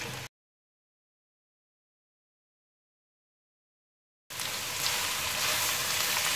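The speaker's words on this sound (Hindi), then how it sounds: "जैसे गाजर को आपने 2 से 3 मिनट फ्राई कर लेना है चिकन और इस सारी चीज़ों के अंदर" Finely chopped carrots frying with chicken in oil, a brief sizzle at the start, then about four seconds of silence, then a steady, moderate sizzle and crackle with no voices.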